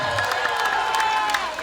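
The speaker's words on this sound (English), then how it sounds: "How about a round of applause for the band?" At an awards show, an audience applauds and cheers for the band, a dense wash of clapping and whoops at moderate volume with a sustained tone ringing beneath.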